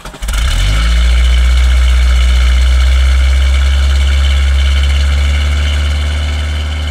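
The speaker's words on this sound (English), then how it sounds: "You can see there's a lot of pumping to get the engine primed to start." A fuel-injected Ford Pinto engine with Holley Sniper 2300 EFI, not run for several days, cranks briefly and fires, then settles into a loud, steady, rough cold idle close by.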